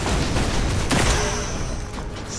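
A shotgun blasts in the video game New Monarchy Titan, a single sharp shot cutting through continuous loud gunfire and combat noise.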